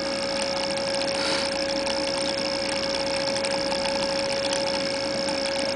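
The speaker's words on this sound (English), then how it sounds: "it's telling me the RPM of the motor, which is around 4000 RPM right now" A small reed-switch electric motor spins steadily at about 4000 RPM, giving a continuous, even whine with a faint mechanical rattle. It stays at a constant level for the whole stretch, with no talk over it.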